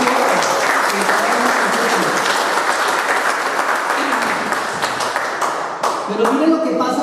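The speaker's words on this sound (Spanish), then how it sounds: "Den un aplauso al Señor." Congregation applauding during a Spanish-language church sermon, a dense, steady wash of many hands clapping that fills the whole stretch and thins slightly toward the end.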